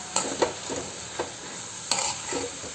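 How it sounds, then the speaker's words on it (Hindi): Green leafy vegetables are stirred in a cooking pan, with a soft frying hiss and several scraping strokes spaced a second or so apart, close and fairly quiet, no voices. "बस इसको अच्छे से मिक्स कर लेंगे और इसको भी थोड़ी देर ढक के पका लेंगे।"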